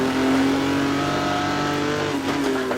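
Vintage 1958 Formula One race cars in the racing game Automobilista roar at steady high revs, a dense engine drone that holds a sustained tone and dips briefly as the car shifts near the end, loud and continuous with no talk.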